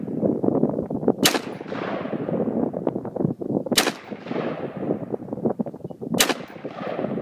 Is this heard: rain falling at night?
no